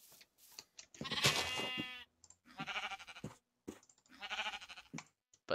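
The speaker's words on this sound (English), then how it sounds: "Yeah, I hear you, sheeps." Sheep in a video game bleating, three separate drawn-out bleats close and clear, spaced a second or so apart with short quiet gaps.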